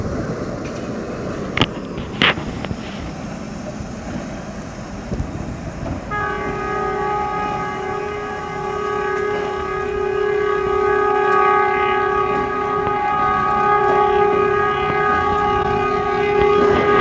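A Budapest tram on line 14 rolls along the rail line, starting with rumble and clanks, then a sustained tonal whine that builds and stays loud as it passes close by.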